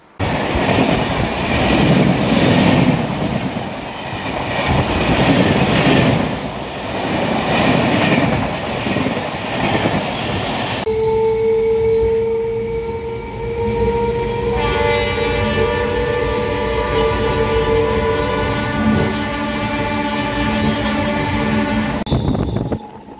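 A local train on the Kolkata to Digha line runs on rails: a steady rumble and clatter of wheels, then a long sustained horn blast for about twelve seconds, close and loud, with no talk.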